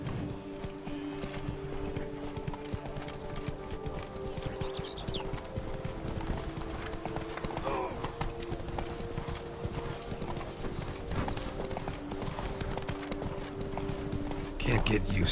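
A spurred horse in The Witcher 3 gallops with a quick, continuous clip-clop of hooves in a steady driving rhythm. Game music or ambience sits beneath it, and a faint whinny may break through.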